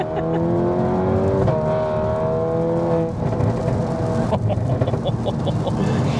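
A tuned Stage 2 VW MK8 Golf R with a Miltech downpipe revs continuously and loudly nearby, its engine note rising and falling through several sweeps, with a few sharp pops toward the end.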